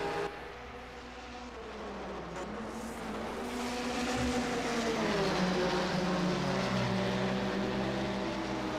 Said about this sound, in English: You can really stretch it out with the engine sound. Listen to that BRM.